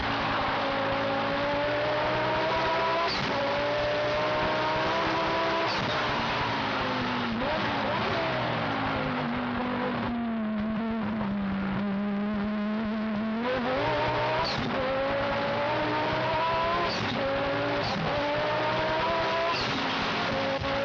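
In-car roar of a race car at speed during a 1989 IMSA GTO race at Del Mar, engine pitch rising and falling through gear changes and corners, loud and continuous with faint commentary beneath.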